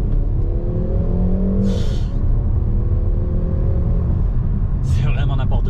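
A 300-horsepower Peugeot car accelerates in sport mode, its engine note climbing in rising harmonic sweeps twice over a steady loud rumble, with a short burst of wind or hiss at each gear change.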